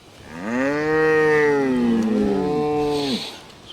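A farm cow in a herd being separated from heifers lets out two long, loud, overlapping moos, close by with rising and falling pitch and no talk over them.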